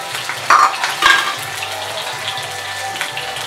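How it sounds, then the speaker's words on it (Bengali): Green beans frying in hot white oil in a wok, a steady soft sizzle with a couple of sharp stirring scrapes near the start, close and fairly loud with no talking. "সবজিগুলো এবার ভেজে নিতে হবে।"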